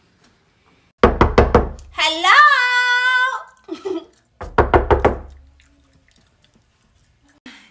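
Knocking on a house door on Thanksgiving: two bursts of four quick, loud raps a few seconds apart, with a young voice speaking and calling out between them.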